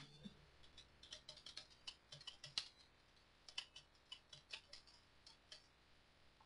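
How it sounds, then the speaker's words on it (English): Computer keyboard typing during a remote-support session, a quiet run of irregular clicky key taps with brief pauses, close and fairly soft, no voices. "start typing."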